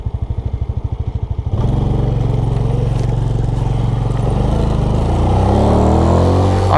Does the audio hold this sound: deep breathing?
no